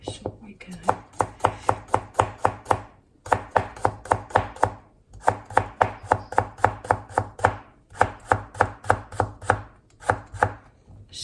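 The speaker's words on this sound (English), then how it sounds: "Love cutting cucumber." A knife chops cucumber for a spring mix salad in quick, steady bursts of crisp cuts on a board, close and clear, with short pauses between the runs of strokes.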